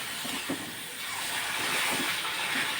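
Water poured into hot semolina in a pan, a loud rushing steamy hiss that swells and holds for a few seconds, with faint stirring bumps underneath and no talk.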